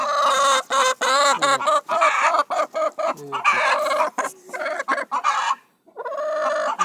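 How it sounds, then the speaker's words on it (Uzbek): Brahma hens and a rooster cluck loudly and continuously at close range, their overlapping calls forming a dense, near-constant stream with one brief pause toward the end. "Mana bunga Brahma degan tovuqlar bor."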